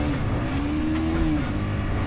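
A Honda VTR 250 motorcycle's V-twin engine revs with a steady, throaty drone that swells and rises in pitch before easing off, close up and continuous throughout, with no talking.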